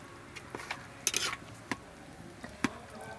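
Spiced chicken being stirred in a pot over a village clay stove, with scattered scraping and clinking knocks of a utensil against the pot at an irregular pace, close and moderately loud.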